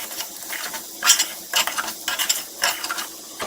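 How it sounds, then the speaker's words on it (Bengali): Beef khichuri stirred in a pan over medium heat, with repeated scraping strokes and a soft sizzle, a steady rhythm of spoon sweeps close up and no talking. "মিডিয়াম আঁচে কিছুক্ষণ বাছতে হবে আমাকে এটা।"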